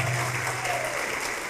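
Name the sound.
church congregation applauding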